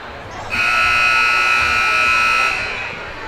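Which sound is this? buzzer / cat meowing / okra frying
buzzer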